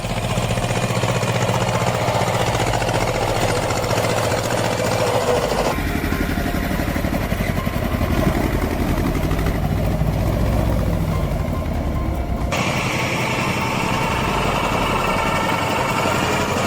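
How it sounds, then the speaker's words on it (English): A T-25 tractor engine runs steadily under load on a rough slope, a continuous loud low chugging drone with tonal shifts partway through. "T-25 operating in harsh conditions, climbing slopes, hauling heavy loads, demanding absolute control."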